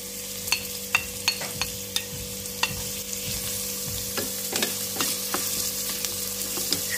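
Onion sizzles in hot oil, a steady crackling hiss close by, while a spoon clacks and scrapes against the pan in a loose rhythm of stirring taps. Nobody speaks.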